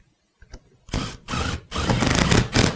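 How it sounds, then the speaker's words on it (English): An impact driver runs a bolt down through the leather-covered seat of a 2000-2004 Ford Mustang, loud, close bursts of whirring and rattling after a couple of short clicks. "You can just take your impact with the pressure and you can just run it straight down"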